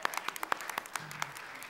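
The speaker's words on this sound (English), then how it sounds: "I think we should give them applause." A church congregation claps during a Sunday service on a snowy day, a modest round of separate claps that sounds like a small gathering, fairly distinct and quiet overall.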